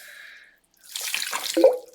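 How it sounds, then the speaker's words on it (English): About 150 grams of tap water is poured into a Thermomix for pink lemonade, giving a close, steady splashing pour of a second or so that swells briefly before it stops. "Okay, 150 grams of water. Remember, tap water"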